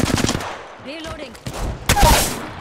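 Rapid gunfire rattles in Apex Legends, with sharp close bursts at the start and again near the end, separated by a brief lull carrying faint game sounds.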